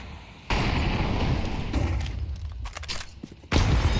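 Grenades going off in a Counter-Strike esports match, sudden loud bursts and blasts in quick succession over dense background game noise, close and heavy.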